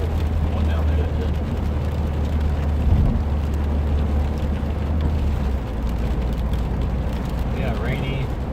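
A 2015 Subaru WRX with a Stage 1 tune drives along a wet road in the rain, giving a continuous low engine and road drone with a broad hiss of tyre spray and rainfall.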